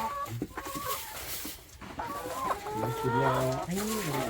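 Free-range farm chickens at an egg farm cluck and squawk close by in a busy, overlapping chorus that grows louder toward the end, while someone talks intermittently among them.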